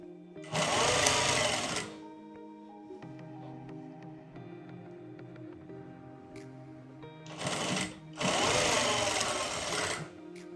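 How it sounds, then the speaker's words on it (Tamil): A sewing machine runs fast stitching a seam over the shoulder of a girl's skirt-and-blouse outfit, two loud whirring bursts separated by a quieter stretch of hum and fabric handling. "ஷோல்டருக்கு மேலே நம்ம ஒரு படிமான தையல் ஓட்டிடலாம்."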